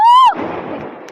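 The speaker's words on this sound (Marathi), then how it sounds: "आणि आता आम्ही सुद्धा फटाके लावतोय." A firework at a New Year celebration gives a rising whistle that ends in a loud burst, and a crackling rumble trails off after it, close and alone.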